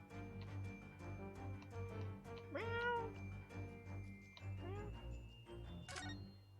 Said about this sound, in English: Look at the little cat Miss Pavlova is cuddling here.